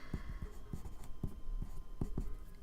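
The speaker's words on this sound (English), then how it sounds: "She says, while writing" A pen lettering on paper, with quick scratchy strokes in uneven bursts, close and fairly quiet, no voices.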